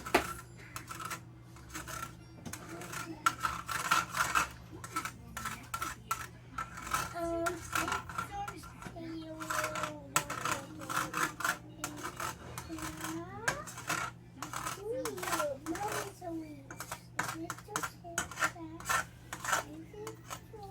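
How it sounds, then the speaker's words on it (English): Egg being stirred in a pan for an omelette: repeated scraping and clinking strokes in an irregular rhythm, fairly close, over a steady low hum, with a voice speaking at times. "Another trick for a fluffy omelette is stir it. In the pan."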